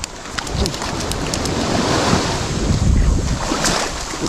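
High-tide sea waves wash in at a fishing shore in a continuous loud roar of surf, with heavy wind buffeting the microphone throughout.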